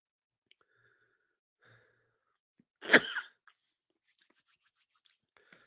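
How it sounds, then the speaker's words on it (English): A single short, breathy cough stands out in near silence, with only faint rustling before and after. "still have this cough."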